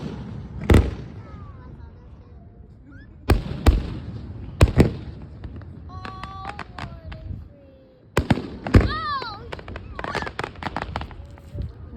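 Fireworks launching and bursting at a grand finale, several sharp booms spread across the clip with whistling rising streaks and crackle between them, while people talk and exclaim nearby.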